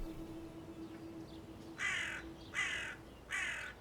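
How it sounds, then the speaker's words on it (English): Crows caw three times in slow succession, each harsh call loud and fairly near, separated by short pauses over a quiet outdoor background with a faint steady hum. "the crows began cawing again"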